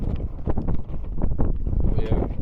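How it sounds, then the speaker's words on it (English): Wind rushes over a sailboat off Vieques, thumping and rumbling against the microphone in uneven gusts, with water sloshing faintly and a voice partly buried beneath it. "In any case, here comes the wind."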